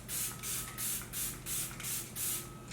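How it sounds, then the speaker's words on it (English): Six quick hissing bursts of makeup setting spray mist, evenly spaced and close by, with brief quiet gaps between each pump. "I'm just gonna spray this all over to set my makeup"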